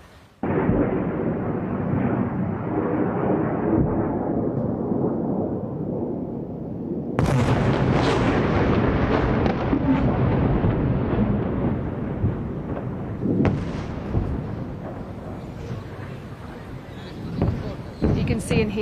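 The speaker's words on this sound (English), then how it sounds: "You can see and hear there the sound and the sight of those Iranian missiles being intercepted in the sky high above Israel" Iranian missiles being intercepted by air defence high over Tel Aviv in early morning, deep rolling booms and rumbling blasts echoing across the city, with a sharp new burst midway and further distant thuds, under a voice talking.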